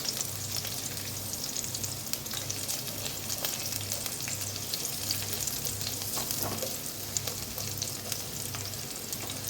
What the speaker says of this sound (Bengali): আর রসুনটাকে ততক্ষণ ভেজে নেবো যতক্ষণ না কালারটা ব্রাউন হয়ে যায়।